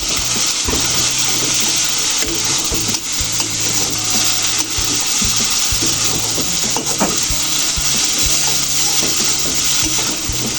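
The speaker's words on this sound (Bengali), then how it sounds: "এটা ভালোভাবে নাড়তে হবে" Noodles being stirred in a sizzling pan after the seasoning goes in, with a utensil scraping and clacking against the metal in an uneven rhythm over a steady loud fry, close by with no talking.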